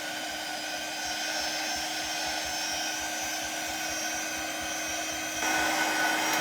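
A dryer blowing on a wet Christmas craft project makes a steady, continuous whirring hum throughout, close and fairly loud, with no speech.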